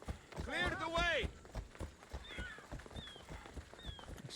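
A horse gallops with rhythmic clip-clop hoofbeats in the video game Assassin's Creed Odyssey, moderately loud, with a voice shouting briefly at the start and a few high whistling game sounds later.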